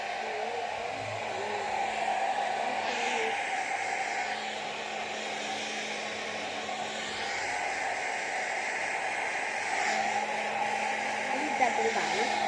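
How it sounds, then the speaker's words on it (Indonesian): Old hair dryer running continuously with a steady whooshing airflow and whine, the pitch shifting slightly as it is moved, close and fairly loud. "Itu hair dryer jadul kayaknya."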